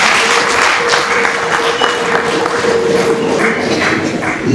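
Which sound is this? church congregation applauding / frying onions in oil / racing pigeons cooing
church congregation applauding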